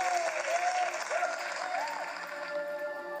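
Stock applause sound effect dropped into a video editor, a dense, even wash of crowd clapping that runs loudly and continuously throughout, with a faint tonal whine running beneath it.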